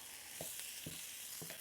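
Corned beef hash sizzles softly in a frying pan with a constant faint hiss, while a utensil scrapes and stirs it in three brief, evenly spaced strokes, close up with no talking.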